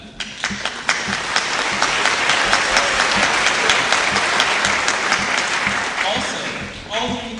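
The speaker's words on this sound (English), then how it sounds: "I want to give like a nice little round of applause just from me to them" Sustained audience applause for fifth and sixth grade students at a school winter concert, a dense wash of clapping across a large room with a few sharper nearby claps, tapering off near the end.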